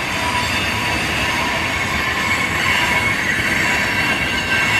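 Freight cars grind by up close in Kansas City, steel wheels squealing high over a dense, steady rumble of the passing train, loud and unbroken.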